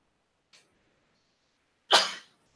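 One sharp, loud sneeze from a person, preceded by a faint short sound a moment earlier, then quiet.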